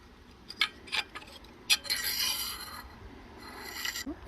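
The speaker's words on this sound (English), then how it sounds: "Take the little dowel or pin out so I can lift that lower plate." Metal rasping and scraping while a small dowel pin is worked out of the lower plate of a 1971 Johnson Evinrude 9.5 horsepower outboard motor, with a few short taps and then a longer grinding rub, close up.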